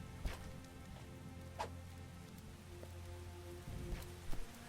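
Rain falls in the video game Starbound, a steady soft patter with scattered louder drops and brief taps, fairly quiet and with no talking.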